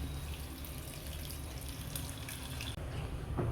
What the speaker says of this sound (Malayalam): അലിയിക്കാനായിട്ട് വെച്ച പുളിയുടെ വെള്ളം ഒഴിക്കാം